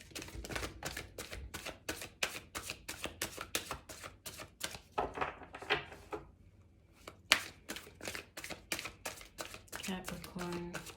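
A tarot card deck being riffled and shuffled in rapid bursts of sharp, crisp flutters, pausing briefly midway before resuming, close and clear with no talking.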